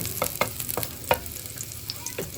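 Garlic sautéing in a pan, a soft continuous sizzle broken by several crisp spatula scrapes and taps at an uneven pace, fairly quiet and close.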